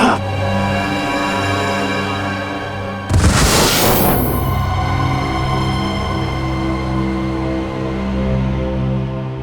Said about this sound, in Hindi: चलाओ गोली। Sir no. गोली चलाओ उस पर